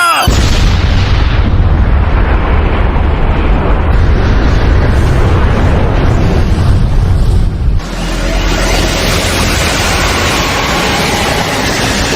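A loud, sustained roar of blasting and rumbling fills the whole stretch, with a sharp shift midway into a second wave of heavy booming noise.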